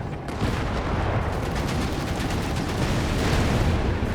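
Dense, continuous gunfire from infantry and vehicles in the strategy video game Company of Heroes 3, with rapid overlapping shots, heavy low rumble and no speech.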